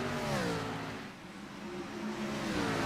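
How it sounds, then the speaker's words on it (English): Race cars at Rockingham run at full throttle on a Cup Series-style race track, their engines droning and sliding in pitch as they sweep past at middle distance, fairly faint and blended into one continuous roar. "You hear the sounds of these cars going full throttle."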